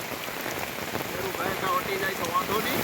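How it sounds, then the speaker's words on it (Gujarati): Heavy rain pours down in a dense, steady hiss that fills the whole stretch, loud and close, with no break in the downpour. "ધોમ ધોકાર વરસાદ પડે છે"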